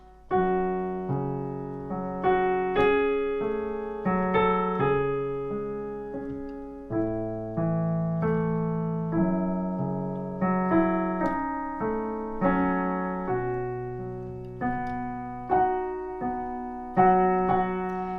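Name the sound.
piano playing melody line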